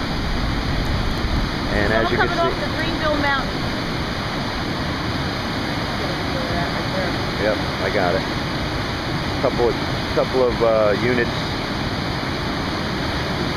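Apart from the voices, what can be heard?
fast-moving flooded creek rushing during Hurricane Irene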